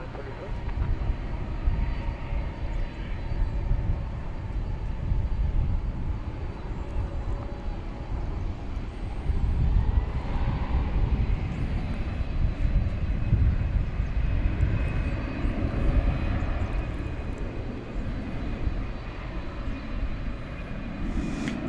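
An American airliner taking off from runway 18 left at DFW airport, a sustained broad jet roar that holds steady and swells slightly midway, with faint voices underneath.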